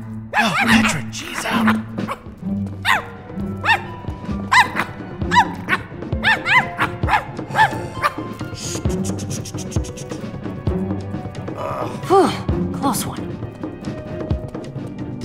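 Puppies in the video game Minecraft: Story Mode give a series of short yips, barks and whimpers against game music, with people talking throughout.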